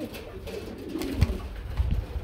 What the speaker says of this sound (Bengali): বন্ধুরা দেখেন কাকে বলে মাল্টেস কবুতর